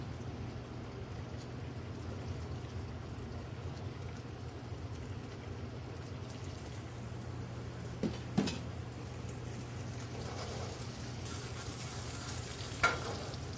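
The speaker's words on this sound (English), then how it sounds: "Add a little bit of grapeseed oil again. And here we add our Schupfnudeln." Schupfnudeln frying in grapeseed oil in a hot pan, giving a steady, even sizzle throughout with a few soft clatters of the pan or utensil near the end.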